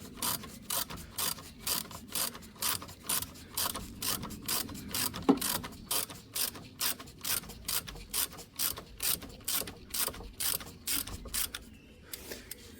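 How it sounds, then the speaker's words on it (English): Close, rhythmic ratchet clicking from a ratchet driving an Allen key socket to undo a brake caliper sliding pin on a Brembo front brake, with about twenty even back-and-forth strokes and no talk. "So I'm undoing the sliding pin at the top."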